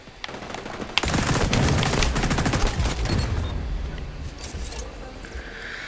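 Rapid bursts of automatic gunfire from the XDefiant video game run continuously and loudly through a chaotic shootout, with overlapping shots and impacts.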